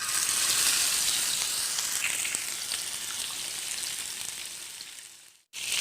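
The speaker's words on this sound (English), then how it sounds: "Keep the flame in low to medium, then only fish can cook well." Fish frying in hot oil over a low-to-medium flame, a loud, dense, hissing sizzle held steadily and close, cutting out for a moment near the end before returning, with no talk.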